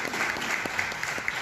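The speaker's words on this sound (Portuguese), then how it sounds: "Pode aplaudir o Senhor" A church congregation claps during a sermon, a brief burst of dense, even applause filling the room at moderate volume.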